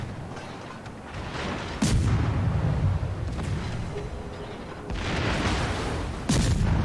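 Warship main guns in the video game World of Warships firing armor-piercing shells, three heavy booming salvos spaced a few seconds apart over a loud rumbling battle backdrop, with no talking.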